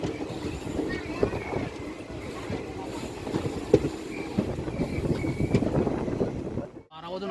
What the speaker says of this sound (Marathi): आता आपली गाडी कोरेगाव रेल्वे स्टेशनवरून डिपार्चर होत आहे